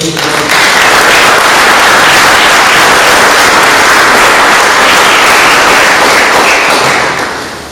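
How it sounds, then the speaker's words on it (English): Loud, sustained audience applause fills an awards gala hall for several seconds, a dense wash of clapping that tapers off near the end. "Let's really give him a round of applause."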